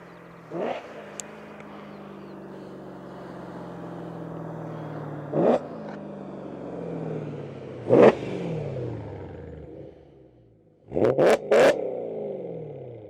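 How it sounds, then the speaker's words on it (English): A BMW E92 M3 with a titanium exhaust idles steadily and revs up sharply several times, with a brief dip before a final pair of quick revs. "I can already hear a full titanium exhaust on an E92 M3"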